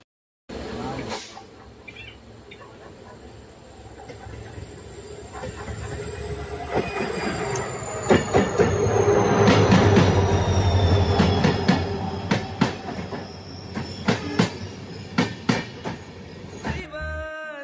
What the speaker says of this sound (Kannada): ಮೊದಲು ಯಶವಂತಪುರ್ಗೆ ಬೆಂಗಳೂರಿಗೆ ಹೋಗೋ ಟ್ರೈನ್ ಪಾಸ್ ಆಗಬೇಕು